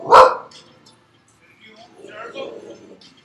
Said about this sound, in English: my service dog senses, Pippa, no, good dog